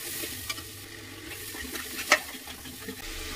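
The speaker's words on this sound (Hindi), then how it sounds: "मैं भून लूंगी मसाला।" Spiced masala for a dry potato, pea and cabbage curry is stirred and roasted in a pan: a soft, steady scraping and gentle sizzle with a few sharper spoon taps, fairly quiet and close, with no talking.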